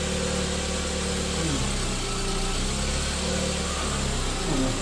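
A 2003 VW Beetle engine runs steadily at idle with a few small shifts in pitch, a close, continuous mid-range hum with no voices.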